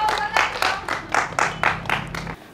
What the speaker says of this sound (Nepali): ताली बजाउँछु सबैलाई